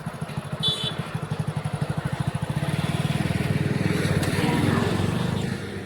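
A motorbike ridden on the road, its engine putting out a steady rapid thumping that rises slightly as it picks up speed, loud and close throughout, with no talking over it.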